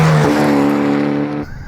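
Loud exhaust of a Hyundai i30 Sedan N (Elantra N), a front-wheel-drive performance sedan, droning steadily at high revs before cutting off abruptly, heard up close.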